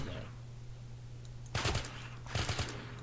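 Two short bursts of automatic gunfire from The Crafting Dead, a Minecraft zombie mod, each a quick rattle of shots over a steady low hum, with quiet gaps before and between.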